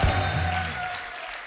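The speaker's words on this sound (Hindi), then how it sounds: "एक बार मनीषा जी और महिमा जी के लिए जोरदार तालियां हो जाए" Applause from a studio audience on a Hindi comedy talk show honoring guests Manisha and Mahima, a dense wash of clapping that starts strong and gradually thins, with a faint sustained tone running beneath.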